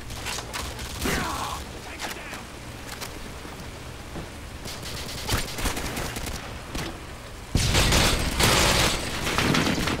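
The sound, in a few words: gunfire in a first-person shooter video game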